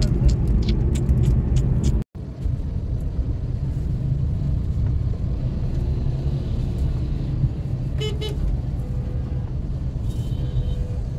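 Road traffic rumbles steadily around a vehicle stuck in a jam, a continuous low engine and road roar broken by one brief dropout early on.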